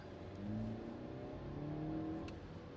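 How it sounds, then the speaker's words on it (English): The four-cylinder engine of a 2024 Mercedes GLE 450e plug-in hybrid, 248 horsepower, revs up steadily, its pitch rising and falling as it accelerates, heard faintly from inside. "I like the pickup, but I don't like the engine noise."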